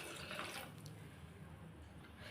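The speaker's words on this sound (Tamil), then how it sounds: "இப்போ இதில் 1 கப் அளவு தண்ணி சேர்த்துக்கலாம்." About a cup of water streams steadily into jaggery in a pan, set to dissolve and boil for a sweet snack, a brief close pouring rush.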